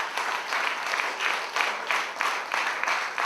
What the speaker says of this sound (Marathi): टाळ्या होऊ द्या.